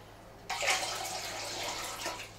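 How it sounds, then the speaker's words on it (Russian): Prepared water pours steadily into an enema mug during a home cleansing procedure, a close, bright splashing gush that starts abruptly and runs for about two seconds before easing off. "Доливаем, естественно, вот той воды подготовленной"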